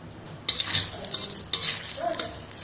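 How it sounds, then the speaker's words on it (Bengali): Two dried red chillies hit hot oil in a pan, a sudden sizzle starting after a short silence, then crackling continues with spatula stirring and scraping close up. "লঙ্কা দুটো একটু ভাজলে না খুব সুন্দর গন্ধ হবে"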